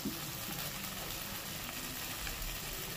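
Yogurt masala with a little water being sautéed in a pan on low heat for a matar paneer dish, a steady soft sizzle and hiss, faint and even, with no voices.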